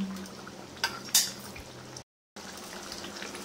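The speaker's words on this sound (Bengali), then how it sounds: "মাছগুলো দিয়ে আর 1 মিনিট ফুটিয়ে নেব" Rui fish curry gravy bubbles and simmers in a pan at home, making a steady soft liquid burble with a couple of brief clinks, close and moderately quiet, briefly cut to silence midway.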